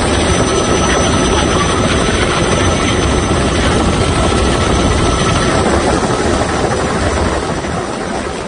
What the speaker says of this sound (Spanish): De hecho, esta imagen es tomada desde un helicóptero.